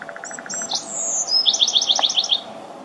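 A small bird chirps in the film Blue Velvet, a clear, fairly close call of quick repeated notes and a rapid trilling series of bright chirps over a quiet background.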